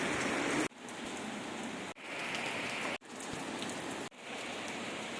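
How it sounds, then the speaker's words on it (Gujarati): Steady, dense rain pattering on a surface, close and continuous, broken by a few brief cuts. "અત્યારે મસ્ત મજાનો વરસાદ ચાલુ થઈ ગયો હે."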